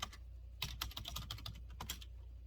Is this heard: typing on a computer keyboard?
yes